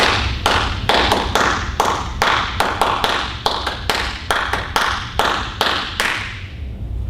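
Sharp hand claps beaten out as a rhythmic demonstration at an agile workshop, grouped in repeating twos and threes at a steady tempo, loud and close with no talking over them.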